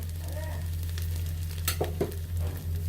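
Rice frying with raisins and salt sizzles under a low steady hum, with a few scraping stirs in quick succession midway through.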